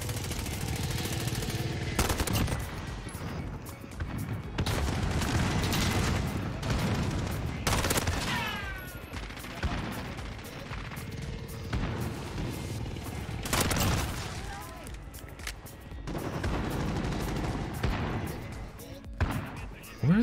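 Rapid bursts of automatic gunfire and shotgun blasts from a Modern Warfare match with the AN94 rifle, loud and close, firing in repeated volleys with booms between, while a player talks over the shooting.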